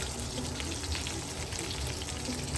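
Pork ribs with BBQ seasoning pan-frying in a wok, a steady close sizzle and crackle running evenly throughout with no talk.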